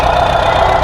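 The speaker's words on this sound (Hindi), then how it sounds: "चलो जी करो स्टार्ट। आप देखो जी, अब इंजन साइलेंट हुआ" The CNG engine of a Mahindra Bolero Pickup, just repaired for misfiring, idles loud and close with a steady mid-pitched drone and a faint rhythmic knock.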